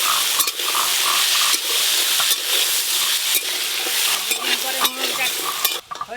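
Cut taro and potato for a spinach ghonto fry loudly in hot oil on a newly built clay stove. A dense, close sizzle runs under frequent clattering stirs, with no speech.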